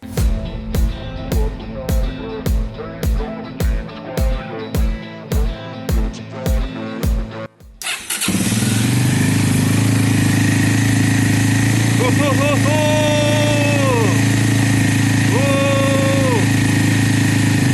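Rhythmic music gives way to a Loncin Voge LX300GY DS2 Pro motorcycle engine roaring to life and settling into a loud, steady idle, with a few higher whining tones partway through.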